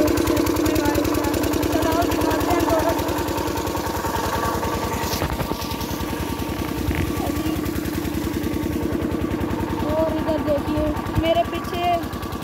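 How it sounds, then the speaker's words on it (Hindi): An engine runs steadily nearby in a farm field where water is being pumped, its rhythmic chugging continuous beneath someone talking over it. "इंजन चल रहा है इधर"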